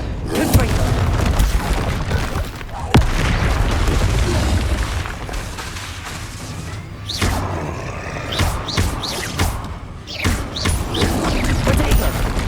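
Confringo spell blasts in Hogwarts Legacy, a series of booming bursts and rumbles layered over dense game noise, with a voice calling out spells in between.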